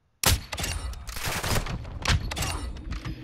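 Video game gunfire bursting in suddenly after a moment of silence, a loud, close flurry of overlapping shots and bursts with uneven rhythm throughout.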